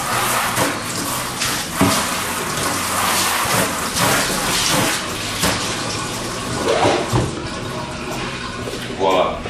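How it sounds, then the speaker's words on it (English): Cold tap water rushes and splashes while a fermenter bucket is rinsed for winemaking, a continuous close wash of water with occasional sloshing swells. "We'll just give this one more quick rinse with cold water."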